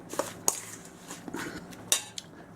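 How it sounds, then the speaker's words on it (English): Spoon scraping and clinking against a pot while an apple and cinnamon mixture is stirred, with a few sharp metallic knocks standing out over softer scraping, close by and alone. "stir that up in there real good, and add some cinnamon as well."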